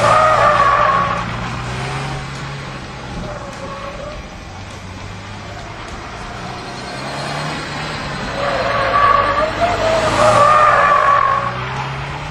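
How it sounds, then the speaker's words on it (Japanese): A car's tires squeal and skid in long swells as an engine drones, looping a figure-eight course near and fading away, then loudly returning. "どちらも同じ車高で8の字を走行します"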